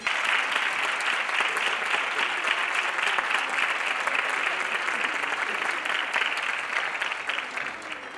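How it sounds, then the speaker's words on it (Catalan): Sustained, dense applause from a crowd welcoming two festival queens at a falla presentation ceremony in Bétera, steady and loud throughout, tapering slightly at the end with no talk over it. "Demani un fort aplaudiment"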